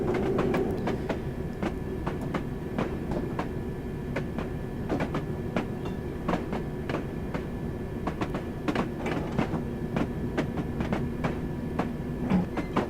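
A London Underground District Line train runs in Train Simulator 2017 with a steady rumble and rhythmic clickety-clack of wheels over rail joints. The clicks come in paired bursts throughout, with no speech.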